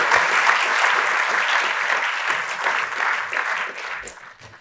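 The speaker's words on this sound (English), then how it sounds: "let's give our panel here a really big round of applause" A conference audience at a defence space event gives a panel a big round of applause, dense and steady clapping from a large crowd that stays loud throughout before starting to thin near the end.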